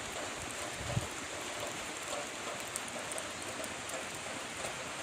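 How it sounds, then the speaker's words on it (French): Heavy rain pours down outdoors near a campsite, a steady dense hiss with no pauses and a few faint drips and knocks standing out. "Il pleut beaucoup."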